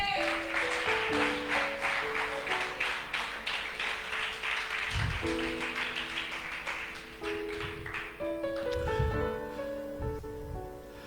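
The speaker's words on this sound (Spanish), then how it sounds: "Dale ese aplauso a Jesús." A church congregation claps for Jesus during a sermon, steady crowd applause layered over sustained keyboard chords playing throughout.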